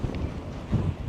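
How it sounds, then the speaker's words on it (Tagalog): Strong wind on a small hilltop lookout near Las Vegas buffets the microphone in a short, rough, low rumbling gust. "Lakas ang hangin."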